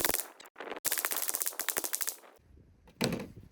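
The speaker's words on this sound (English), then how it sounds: "I'm just pointing and shooting." A Ruger 10/22 rifle fires a rapid string of close, loud shots with CCI ammunition at a refrigerator, the pops running nearly continuously for about two seconds, then a short pause before another burst.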